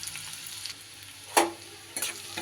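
Chopped garlic and ginger dropped into hot oil for green chilli chicken, a steady low sizzle punctuated by two sharp louder sputters as the pieces hit the pan, close and alone without talking.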